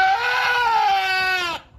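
A young farm goat lets out one long, loud, human-like scream lasting over a second, nasal and wavering, before cutting off abruptly into quiet.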